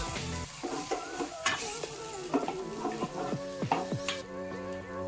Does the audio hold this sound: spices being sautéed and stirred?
yes